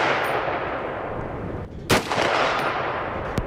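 A single sharp gunshot from an AR-10 rifle fitted with a prototype third-arm support cracks out over steady background noise, followed by a faint metallic ring.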